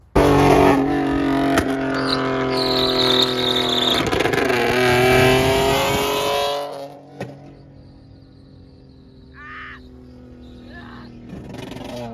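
A loud Nissan GTR race car engine revs hard, shooting exhaust flames with sharp pops and crackles, then drops to a rumbling idle.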